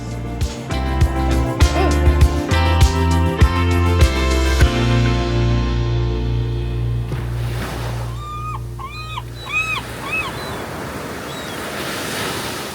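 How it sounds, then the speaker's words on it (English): Waves washing onto a beach in Malaysia, a steady surf roar up close at first, then thinning out while bird calls or chirps come through over the softer wash. "Here we are at the beach."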